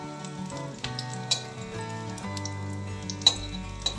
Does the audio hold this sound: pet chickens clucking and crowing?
no